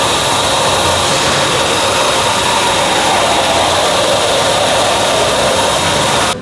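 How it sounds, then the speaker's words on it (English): An air compressor runs steadily in a workshop restoring a Lancaster bomber, a loud constant broadband roar and hiss with no gaps, close by and alone until it cuts at the very end. "And that's the compressor?"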